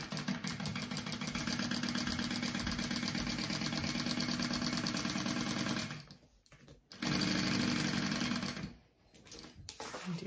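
A sewing machine stitching a fabric seam on a small fold-and-zip backpack, a steady fast mechanical whirring with regular needle rhythm, pausing briefly twice before resuming.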